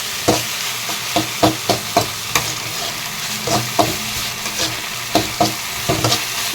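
Vegetables sautéing in oil in a pan, a steady sizzle broken by repeated sharp scraping clicks of a stirring spoon against the pan, close and fairly loud with no voices.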